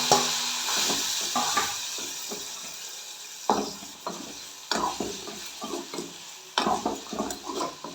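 Mutton frying in a pan for a pepper fry, under a close hiss of sizzling oil broken by several sharp bursts of stirring and scraping against the pan.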